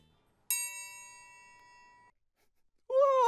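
A triangle is struck once on an outdoor camping trip, giving a single bright metallic ring that lingers and fades for about a second and a half. After a short silence a voice begins speaking.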